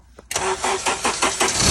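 A turbocharged Honda Civic Type R with a 500 bhp build cranks briefly, then catches and settles into a loud, steady idle close to the microphone.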